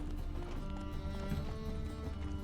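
Roach the horse gallops in The Witcher 3, a steady drumming of hoofbeats running close and loud through the whole stretch over a low rumbling game backdrop.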